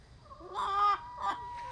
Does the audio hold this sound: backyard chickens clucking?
yes